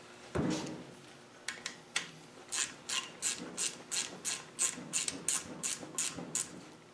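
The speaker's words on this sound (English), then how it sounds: "now we're going to tighten down progressively the oil seal at the back" Bolts on the rear oil seal of a Ghana 110 motorcycle are tightened with a ratchet, producing a run of quick, evenly spaced clicking bursts, close and fairly quiet, after an initial clunk.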